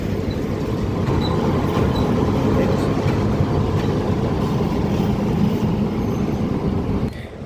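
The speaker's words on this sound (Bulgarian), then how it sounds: "значи това са вагоните за влак 30-156, който тръгва при вечер" Train wagons standing at Varna central railway station, Bulgaria, give a steady, loud rumbling roar with a constant low mechanical drone that holds evenly for about seven seconds before easing off near the end.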